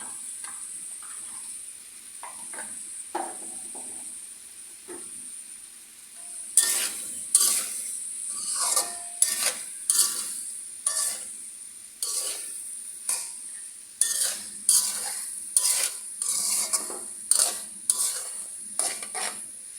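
Green chilies and coarsely chopped onion fry in a pan for homemade noodles. A soft sizzle is punctuated by a quick, rhythmic series of metal spatula clinks and scrapes against the pan.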